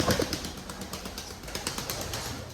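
Domestic pigeons released from their cage and stirring about: a steady, close, noisy rush of wing flaps and shuffling, with faint coos early on, running continuously for a couple of seconds.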